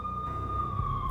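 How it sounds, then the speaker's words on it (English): Police sirens in the Max Payne video game wail steadily at mid distance, a continuous high tone over low rumbling ambience in a brief burst. "The NYPD was closing in. I could hear the sirens. Their wail was a crescendo."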